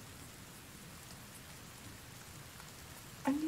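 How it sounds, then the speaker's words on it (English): Steady rain falls in the survival video game The Forest, a soft, even hiss of drops that continues throughout at low volume, with a brief voice cutting in at the very end. "As soon as it started raining"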